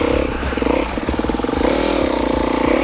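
Enduro motorcycle ridden on a training exercise with the rider braking, its engine giving a loud, close, throbbing buzz that rises and settles in pitch, with some clatter.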